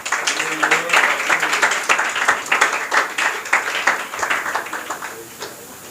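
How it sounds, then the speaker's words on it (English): An audience applauds a prize winner at a confidence-building program at an English academy, a burst of clapping from a crowd that thins toward the end, with some voices mixed in. "You have to clap for him."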